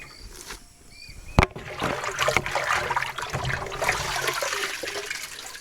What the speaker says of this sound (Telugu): ఇప్పుడు మనం ముందుగా ఈ విధంగా ఆకులు ఫిల్టర్ చేసుకోవాలి.